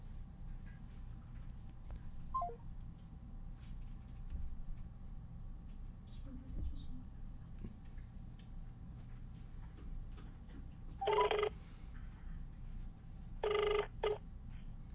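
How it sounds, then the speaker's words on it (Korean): Telephone redial during a call with poor reception: two bursts of dialing tones, one short and one longer double burst near the end, over a steady low background hum. "제가 다시 전화 드리겠습니다"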